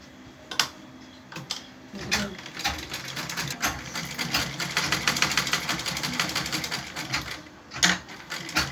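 A sewing machine runs a continuous line of stitching around a fabric neckline facing turned toward the strip side, its dense, rapid mechanical clatter steady and close, with brief pauses and faint background sounds.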